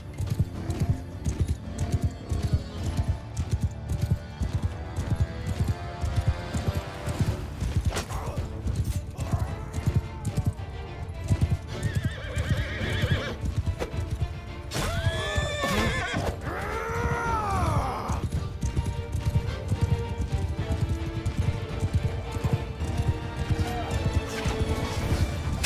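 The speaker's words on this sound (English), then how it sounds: "Cavalry! Sergeants, horse archers!" Cavalry horses gallop in a Mount & Blade II: Bannerlord battle with the Calradia Expanded mod, their hooves drumming continuously under neighs and whinnies, clashing weapons and dense battle noise.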